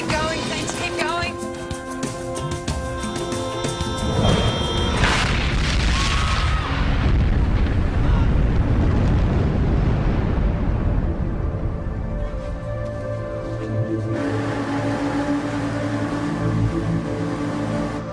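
A detonated explosive device goes off in a police drama scene, a loud sustained boom and rumble that fills the clip, with shouting voices heard before and around the blast.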